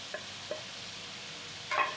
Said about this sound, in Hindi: अब इसे अच्छी तरह भूनेंगे जब तक कि मतलब मसाला मिक्स नहीं हो जाता